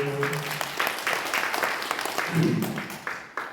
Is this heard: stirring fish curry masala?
no